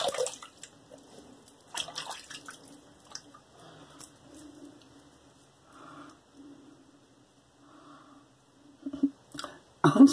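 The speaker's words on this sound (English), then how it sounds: "Rinse off that blade, I'm gonna rinse off my face" Water rinses a razor blade and then a face during a shave, giving soft intermittent drips, splashes and squishy handling sounds, close and fairly quiet, with a few louder splashes near the end.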